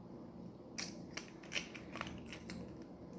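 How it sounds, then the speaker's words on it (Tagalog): Compression fitting nut on a water pipe being loosened by hand, a few faint, close metallic clicks and scrapes of threads turning, spaced irregularly over a quiet background hum. "Luluwagan mo lang po siya gamit ang kamay o ang inyong wrench."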